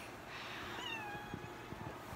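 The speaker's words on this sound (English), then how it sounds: "Why are you meowing at me?" A cat meows at close range in a quiet indoor room, giving one drawn-out cry with a rising and falling pitch, followed by faint soft noises.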